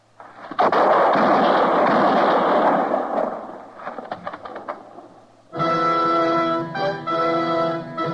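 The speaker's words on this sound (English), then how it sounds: "I heard the shots, Matt." Gunfire in a Western radio drama bursts loud and close, a dense rumbling volley lasting a few seconds that fades into scattered cracks, then dramatic music swells in alone.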